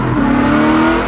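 Drift car engine at high RPM, a loud, close, sustained scream holding a steady high pitch after a brief rise at the start.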